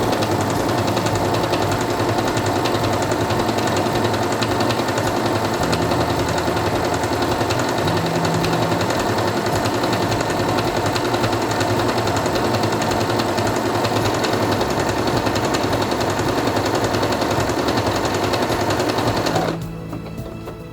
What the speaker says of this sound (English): Place it under the presser foot, lower it, and begin sewing.